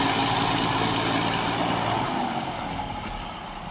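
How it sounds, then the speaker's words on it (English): Heavy diesel engine of a New Holland PW 130 wheel loader, 130 horsepower, roaring steadily on a construction site, loud and continuous with a low throbbing rumble that eases slightly toward the end. "The New Holland PW 130 wheel loader with its 130 horsepower engine roars across the construction site"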